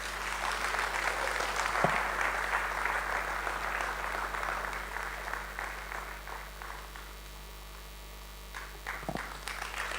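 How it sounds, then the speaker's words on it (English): A live-stream event audience gives a round of applause, steady and moderately loud for several seconds over a low mains hum, thinning briefly before a few claps return. "Please, another round of applause for BAP."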